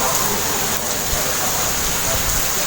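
Steady rain falls on a park with wet benches, a dense, even hiss of drops spread across the whole clip with no breaks and no voices.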